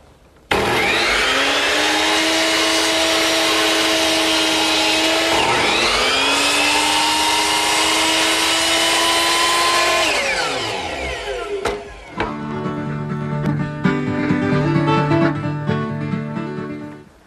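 A hand saw in a miter box set to 20 degrees cutting through a wooden baluster, making a loud, steady, continuous rasp for about ten seconds, then a brief pause and a second, rougher stretch of cutting as the piece is rotated.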